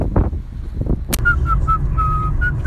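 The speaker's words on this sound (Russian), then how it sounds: "не свисти в машине, бензина не будет" Whistling inside a car: after a few short sounds at the start, a person whistles a simple tune in steady, evenly spaced notes, close to the microphone, over a low road rumble.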